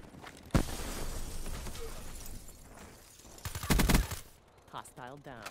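Video game gunfire on the Nuketown map: a sharp single report, then a dense rapid burst of shots a few seconds later, with a voice speaking briefly near the end.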